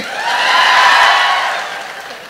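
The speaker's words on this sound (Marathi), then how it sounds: "आता एकदा जोरदार टाळ्या होत्या तिच्यासाठी." An audience claps at a Marathi comedy speech, a broad, loud wash of many hands that swells and then gradually fades away.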